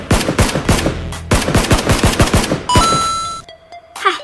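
Rapid single-shot gunfire rings out in the video game PUBG, loud, sharp reports fired in quick bursts with a short pause between volleys, followed by tonal game interface chimes.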